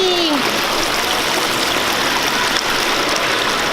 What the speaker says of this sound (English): There's like a little waterfall.